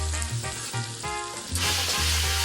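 Bacon sizzling and frying in a dry pot with no oil added, cooking for charro beans, a steady crackling hiss that grows louder and denser partway through, with low music or background hum underneath.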